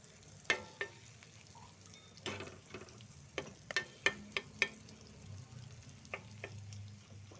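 A ladle stirs batani chaat, mashed with chopped tomato, garam masala and chaat masala, in a bowl. Soft scraping and a series of sharp clinks sound close by, spaced irregularly, with no talking.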